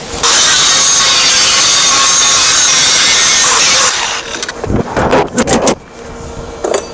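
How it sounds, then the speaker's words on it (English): Grinding on the metal of a lockbox to prep an area for welding: a loud, steady abrasive roar for about four seconds, then it cuts off, followed by several clattering knocks and handling noises. "So now I'm going to grind this area so we can get it welded on."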